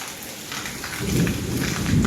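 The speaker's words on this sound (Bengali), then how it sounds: "বিদ্যুৎ তেমনি চমকাচ্ছে মেঘ ডাকছে বিদ্যুৎ চমকাচ্ছে" Heavy rain pouring with low thunder rumbling during a stormy day at home, steady and loud, swelling toward the end.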